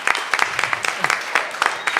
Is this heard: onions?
no